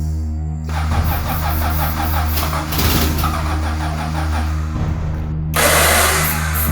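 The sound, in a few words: car engine cranking and starting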